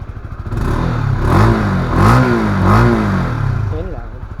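A Honda CBR150R motorcycle engine revs in several rising and falling bursts over a steady idle, close and fairly loud, with a person talking over it.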